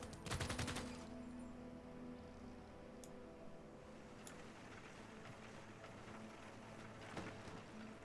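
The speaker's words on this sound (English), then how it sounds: "Heard a machine gun somewhere." Machine gun fire from a Civilization VI game session, a distant rapid burst near the start followed by faint scattered shots over steady background game music.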